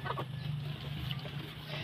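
A chicken clucks faintly in the background of a rural yard where a fire has been lit to heat water, with a steady low hum and light ambient noise around it.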